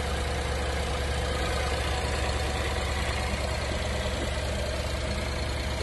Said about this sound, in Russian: двигатель работает ровно без посторонних шумов и стуков.